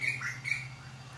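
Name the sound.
birds calling in the background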